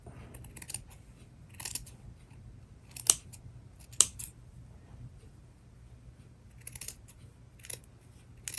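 Scissors cut folded paper for an origami pouch in a series of quiet, crisp snips spread through a soft background, with two sharper, louder snaps near the middle.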